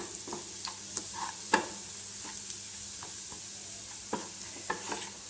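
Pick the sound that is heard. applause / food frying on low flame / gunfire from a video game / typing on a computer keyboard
food frying on low flame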